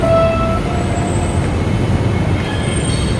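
An LRT light rail train rolls past loudly with a rumbling roar and high metallic wheel squeals, close by, no voices.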